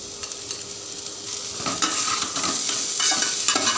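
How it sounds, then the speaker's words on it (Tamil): Potatoes stirred in a frying pan with salt and turmeric, a steady sizzle of frying under repeated scraping strokes of a spoon against the pan, close and fairly loud, with no talking. "இப்போ ஒன்று போல் கிளறி விட்டுட்டு கொஞ்சமாக உப்பு மஞ்சள் சேர்த்துடலாம்"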